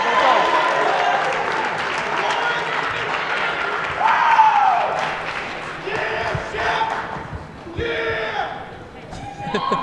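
A crowd applauds and cheers during a boxer's introduction at a West Point, New York bout, a broad sustained wash of clapping and shouts with voices talking over it.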